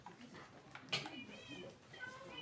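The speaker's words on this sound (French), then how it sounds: "Mais ton chat il arrête pas de tomber dans le trou." A cat meows a few times, fairly close, over a low background murmur of voices.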